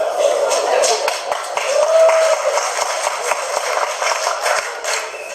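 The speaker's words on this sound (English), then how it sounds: "You're clapping" A crowd applauds steadily, a dense wash of many hands clapping, with a voice briefly audible underneath.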